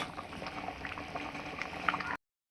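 A thick lentil-dumpling curry bubbles and pops steadily in a pot, soft and close, for a couple of seconds before cutting off.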